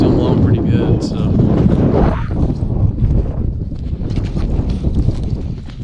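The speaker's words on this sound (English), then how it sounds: "The wind's still blowing pretty good" Strong wind buffets the microphone outdoors on farmland, a loud, low, gusty roar that rises and falls throughout, with a voice partly buried beneath it.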